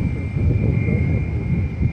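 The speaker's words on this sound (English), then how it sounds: "This is A320." Airbus A320 airliner at Fort Lauderdale Hollywood International Airport, runway 10R, giving a steady, fairly loud engine roar with broadband rumble and a constant high whine throughout.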